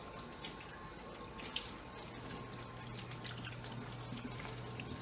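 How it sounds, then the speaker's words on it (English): Tap water running gently over roasted red and yellow peppers as the skins are peeled off, a soft, steady trickle with small drips and splashes. No voices. "Just put the water on lightly and just let the water run"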